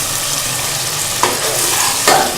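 Spices, ginger-garlic paste and dried fenugreek leaves fry in hot oil, giving a steady close sizzle broken by two brief stirring scrapes.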